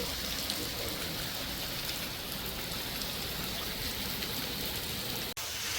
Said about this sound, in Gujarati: રાતના વાગ્યા છે 11 અને ભાઈ જોરદાર વરસાદ ચાલુ થઈ ગયો છે